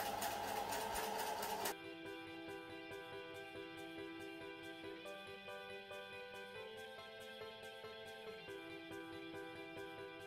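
A sewing machine runs steadily, stitching a turned and sewed seam in fabric, with a fast even mechanical whir and hum. A louder burst at the start gives way to a continuous, moderately quiet drone.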